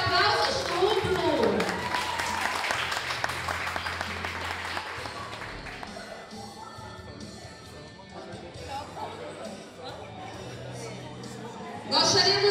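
Steady applause from an audience at a school graduation ceremony as a ninth-grade graduate walks in with escorts, continuous clapping over music and scattered chatter, with a fresh surge of clapping at the very end.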